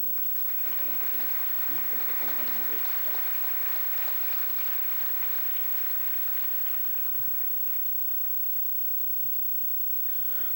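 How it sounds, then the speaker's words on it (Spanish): An audience at an anniversary event for a radio station gives sustained applause, a dense wash of clapping that swells and then slowly fades, with faint voices underneath. "con un fuerte aplauso."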